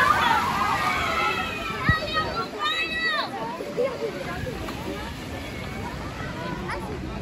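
Rushing, sloshing water on a rapids ride at PortAventura, with excited voices and children's shrieks near the start over a steady wash of water.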